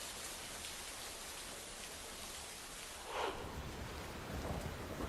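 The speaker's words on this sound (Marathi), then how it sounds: "जोरदार पाऊस सुरू आहे।" Heavy rain falls on the Kedarnath pilgrimage route in the Himalayas, a steady, fairly faint hiss of rain with a couple of brief, louder gusts of rainfall.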